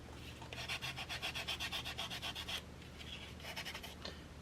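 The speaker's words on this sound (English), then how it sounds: "And you can see as I'm sanding, it's bringing out more of the color." Jewelry beads being sanded by hand, a quick series of rhythmic rasping strokes, then a short pause and a few more scrubbing passes, close but quiet.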